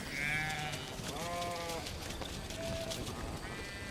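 Several sheep in a flock bleat in short, wavering calls, some overlapping, over a steady background hiss.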